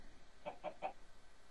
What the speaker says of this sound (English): Now Gavin has a basement of chickens